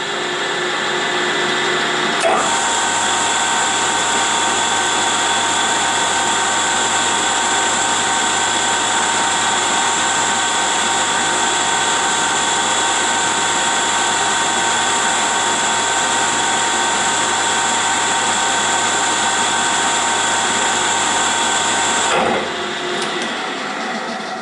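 A metal lathe turning left while cutting metric threads from the shoulder outward makes a steady, loud whine with a high tonal hum, starting abruptly and running continuously for about twenty seconds before stopping.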